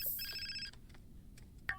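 A telephone rings with a bright electronic ringtone, a repeating trill that sounds at moderate volume and then breaks off, with no one speaking over it.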